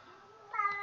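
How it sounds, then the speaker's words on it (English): A single short cat meow, faint and slightly distant, rising briefly after a moment of quiet room tone. "that's my cat you hear in the background."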